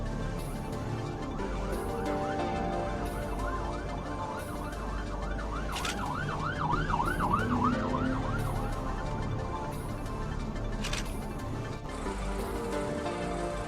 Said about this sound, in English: The tornado sirens are sounding in El Reno right now. We can hear them.